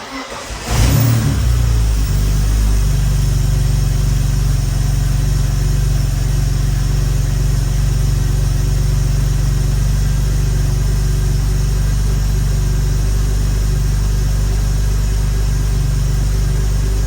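A car engine from an oil cooler install cranks and catches after about a second, then settles into a loud, steady idle that runs alone for the rest of the clip.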